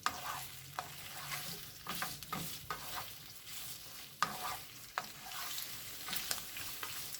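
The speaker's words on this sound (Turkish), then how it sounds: "Ve bu yağda 2-3 dakika kadar etleri soteliyorum." Meat sautéing in hot oil in a pan for lokanta-style Turkish kavurma, with a steady close sizzle broken by repeated scraping clicks of stirring, no voices.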